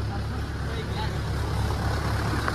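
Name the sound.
vehicle engine sound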